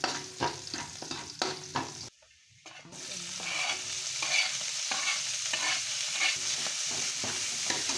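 Garlic sautéing in a pan while it is stirred: a near, steady sizzle broken by scraping strokes, briefly cut off for a moment before the frying noise resumes louder.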